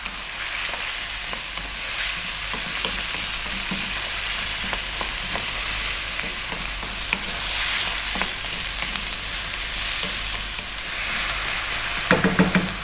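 Potatoes and okra frying in a pan over above-medium heat, a steady close sizzle with occasional scraping of stirring, no voices.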